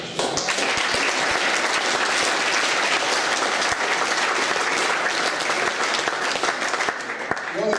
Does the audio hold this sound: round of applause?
yes